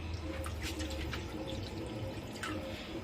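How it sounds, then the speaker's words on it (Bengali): A small splash of water trickles into simmering curry gravy in a home kitchen, a soft, quiet pour with faint drips over low background hum. "আর একটুখানি জল দেবো বেশি দেব না"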